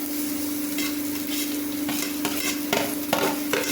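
Shallots and onion sizzle in a hot pan while a spoon stirs them in several quick scraping bursts, close and moderately loud over a steady frying hiss.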